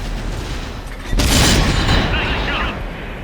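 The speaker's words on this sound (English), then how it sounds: "we're just going to shoot him straight through the face with heat" A single loud, heavy cannon shot from a tank firing a HEAT shell in World of Tanks, sudden and booming, followed by a fading rumble and faint mechanical clatter.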